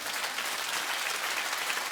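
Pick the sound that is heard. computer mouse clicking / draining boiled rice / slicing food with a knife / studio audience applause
studio audience applause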